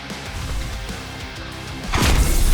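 Barrels exploding in the video game Ironsand, a loud crashing burst that rises out of steady game sound near the end and stays heavy and booming through the last moments.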